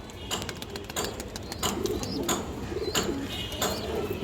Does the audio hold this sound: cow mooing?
no